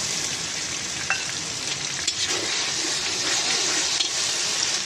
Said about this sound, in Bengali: এবার এর মধ্যে এই টমেটো যেটাকে আগে থেকে একটু সিদ্ধ করে নিয়েছিলাম এটাকে দিয়ে দেবো